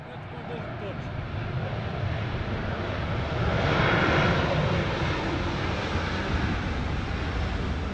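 Airliner engines roar broadband and steady during an emergency landing rollout with reverse thrust on one engine, swelling louder around the middle then holding at a constant rushing level, with wind-like noise throughout.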